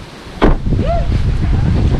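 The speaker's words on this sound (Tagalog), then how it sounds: "Lakas ng hangin." Strong wind gusting and buffeting a microphone outdoors on a road trip in Tanay, Rizal, a steady broadband roar with a sharp gust burst, continuing under faint background sounds.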